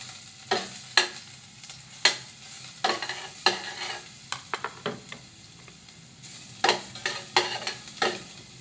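Ginger being sautéed in a pan for native chicken tinola, a low sizzle punctuated by repeated sharp scrapes and knocks of a utensil against the pan at an uneven rhythm, no talking.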